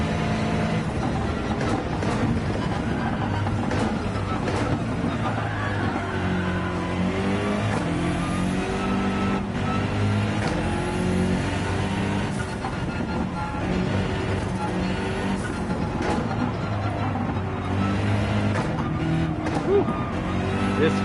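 A Honda NSX race car in Gran Turismo drives at speed, its engine droning continuously with shifting pitch as it revs and gears change, tires squealing now and then, and a voice talking over it.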